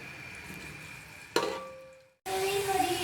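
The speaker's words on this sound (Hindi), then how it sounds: "अब इसमें मैं ये स्लाइस प्याज डालूंगी और इसको मैं फ्राई करूंगी।" Sliced onions dropped into hot oil, a sharp burst of sizzling that fades briefly and then returns as a loud, steady crackling fry.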